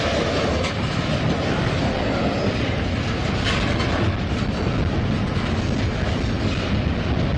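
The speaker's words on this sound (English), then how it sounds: "two other trains waiting for this one to head out" Train rolling through a rail yard during a meet with other waiting trains, a loud continuous rumble with clattering wheels and occasional faint squeals, heard up close and steady throughout.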